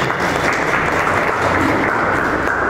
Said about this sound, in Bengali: তার জন্য আরেকবার হাততালি জোরে।